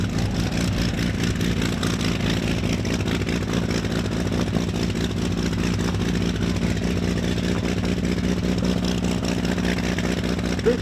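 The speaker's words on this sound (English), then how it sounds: "That is a genuine Daimler-Benz DB605 fuel-injected supercharged" A Messerschmitt Bf 109G's fuel-injected, supercharged, liquid-cooled Daimler-Benz DB605 V12 running at a warbird show, a steady, loud, deep engine drone holding without a break throughout.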